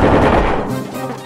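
A cannon launch in the video game Kirby Star Allies, a loud booming blast that fades over about a second, with no talk over it.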